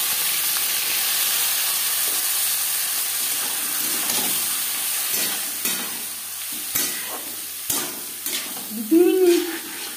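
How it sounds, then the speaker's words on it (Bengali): Masoor lentils are sautéed with cumin and fried chili in hot oil, giving a continuous sizzle with intermittent stirring scrapes and clinks that grow busier toward the end. "ডাল সাঁতলে নেব।"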